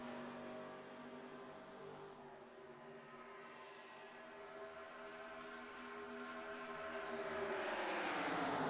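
Simulated race car engines drone at Talladega in an 87 Series racing video game, a steady layered harmonic whine from a pack of cars that swells louder and rises in pitch toward the end, with no talk.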